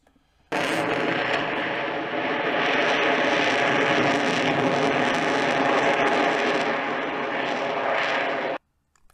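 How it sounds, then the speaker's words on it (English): An F-22 fighter jet flies past with a sudden loud roar that starts abruptly, holds as a broad, powerful rushing engine noise for about eight seconds, then cuts off sharply. "So that's the F-22 right there."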